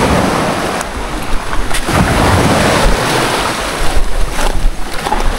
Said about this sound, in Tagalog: Ang galit yung dagat ah